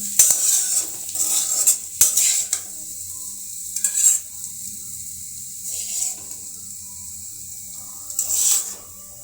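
Potato bhaji being stirred and scooped out of a pan: repeated scraping and clinking of a metal utensil against the pan in bursts, over a faint sizzle, with no talking.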